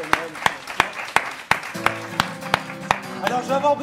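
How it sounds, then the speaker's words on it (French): Festival audience at the Avignon OFF festival clapping in a live broadcast, with sharp rhythmic hand claps in a steady beat over sustained tones and some background voices. "un peu d'applaudissements, un peu de bruit, s'il vous plaît"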